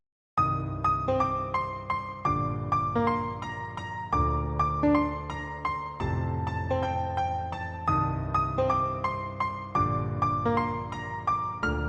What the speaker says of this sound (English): first melody with the chords, sounds like this